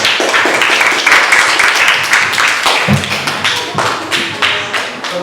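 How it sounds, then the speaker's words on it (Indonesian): Students in a classroom applaud group 2, loud close clapping in a dense burst with scattered taps and thumps, thinning toward the end into a few separate claps. "Kasih aplaus dulu untuk kelompok 2."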